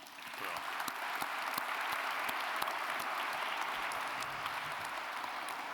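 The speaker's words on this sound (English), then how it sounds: "So one more round of applause, if you will" Steady audience applause fills a George Polk Awards ceremony hall at Long Island University, a dense wash of many hands clapping at an even level with a few sharper individual claps standing out throughout.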